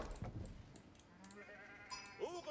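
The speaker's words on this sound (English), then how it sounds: "A lot of sheep out here." Sheep in Age of Empires IV give a couple of short bleats, faint and somewhat distant within the game's ambient soundscape, with no talking.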